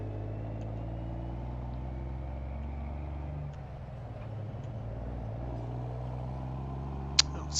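Truck driven in a farming video game, a low steady engine rumble holding throughout with a brief dip midway and a sharp click near the end.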